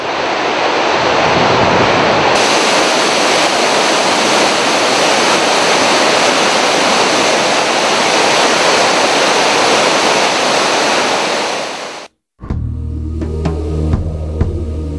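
A huge waterfall in Ethiopia, 46 m high and 366 m wide, roars as a loud, steady broadband rush for about twelve seconds, then cuts abruptly to a different, quieter scene with low tonal sounds.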